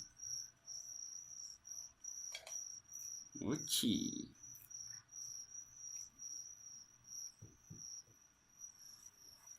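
Crickets kept as feeder insects for a leopard gecko chirp in a steady high-pitched trill throughout, with a brief soft voice and a few handling knocks and rustles partway through.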